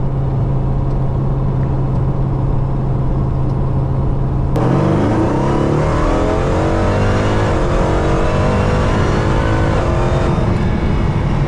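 A Hellcat-powered Dodge Magnum with HP Tuners tuning roars hard under heavy acceleration, a steady loud engine drone breaking at mid-clip into a rising, revving surge that keeps climbing close and alone without any talk.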